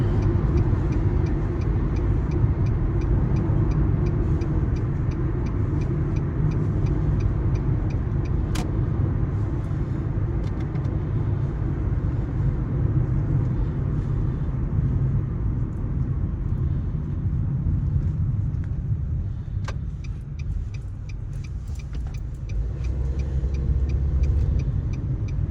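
A car makes a U-turn on the road, heard as a long, steady, loud engine and road rumble with a brief dip in level partway through and no talk.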